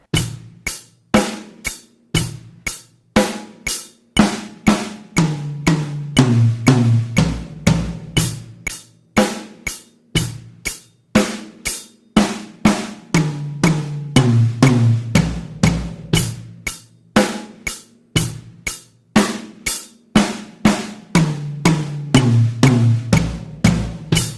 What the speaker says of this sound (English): So 8th note beat, 8th note drum fill. It should sound something like this.